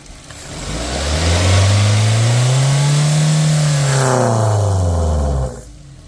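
A Maruti Suzuki Baleno's engine, which has a pickup and acceleration problem, revs up, holds a high steady roar for several seconds, then drops back down and cuts off, loud and close.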